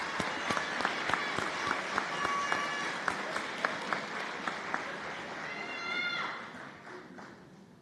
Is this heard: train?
no